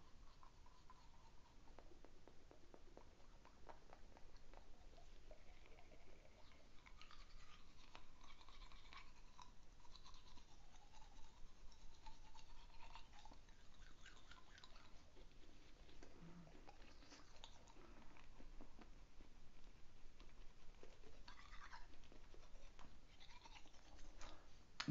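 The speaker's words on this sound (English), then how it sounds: "I'm going to treat my teeth with this coconut oil in the same way as I did with the peroxide. Really gentle brushing" Gentle toothbrushing of teeth coated in coconut oil makes soft, close, wet scrubbing strokes in a quiet, even rhythm that keeps going throughout without any talk.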